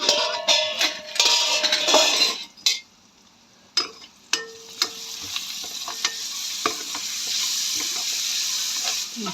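Onions fry in a pan during Telugu home cooking, a steady sizzle with repeated scraping and clinking stirring strokes, busiest at the start, then a softer continuous hiss with occasional utensil taps.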